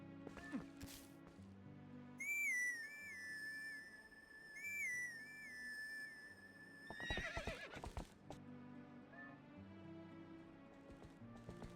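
Epona, the horse from the video game Zelda Twilight Princess, gives a loud whinny with an echoing repeated call, set among game music and hoofbeat clip-clops, with a sharp rustle near the end.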